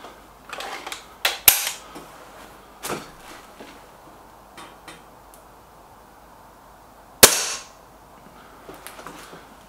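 Suppressed air rifle shots from an SMK XS36 and a Stoeger RX20, sounding as a few sharp, isolated cracks with long quiet gaps between them, one notably louder near the end, over faint outdoor background.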